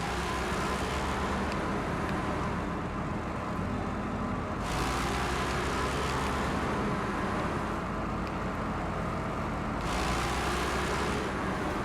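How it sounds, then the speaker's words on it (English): A loud truck engine in a driving video game runs as a constant heavy drone with road noise, steady throughout with slight shifts in tone. "this truck is so damn loud that it's a little easier on the ears if I go ahead and drive in cab."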